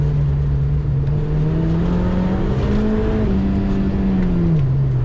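A Subaru Impreza 2.0R driving on a snowy road, its engine droning steadily with a smoothly rising and falling pitch as the revs shift, loud and close with no talk.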